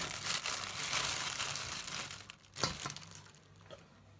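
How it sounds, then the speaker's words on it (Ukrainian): Plastic film crinkles and rustles up close as it covers a bowl, a burst of crackling followed by a few sharper crinkles as it settles. "накриваємо плівкою."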